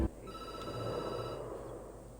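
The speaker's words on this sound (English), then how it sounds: "phone rings and you jump" A telephone rings in the Night Call video game, a single bright electronic bell trill lasting over a second and then fading, with no voices over it.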